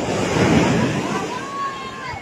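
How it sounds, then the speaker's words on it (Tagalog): Steady roar of high ocean waves at Nasugbu Beach, Batangas, with wind buffeting the microphone, a thin tonal whine drifting through in the second half. "Taas ng alon."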